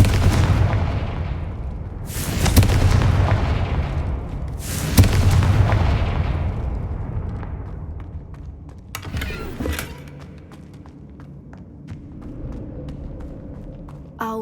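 Confringo spell explosions in Hogwarts Legacy on PS5: two heavy booming blasts a couple of seconds apart, each decaying into rumbling debris, followed by a sharper crack and scattered smaller impacts fading away.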